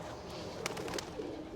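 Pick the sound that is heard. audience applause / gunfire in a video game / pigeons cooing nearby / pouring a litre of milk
pigeons cooing nearby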